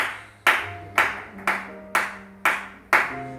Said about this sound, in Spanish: Te aplaudimos las fases.